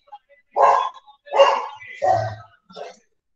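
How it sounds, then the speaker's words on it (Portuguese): Four short, gruff barks from a dog nearby, spaced about half a second apart, then silence. "Cachorro não gosta do negócio, ele late."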